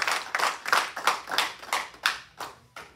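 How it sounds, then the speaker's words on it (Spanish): Church congregation clapping in a steady rhythm of sharp, close hand claps, roughly three claps per second, with no talking over them. "que ese aplauso sea que oiga la presencia de Dios"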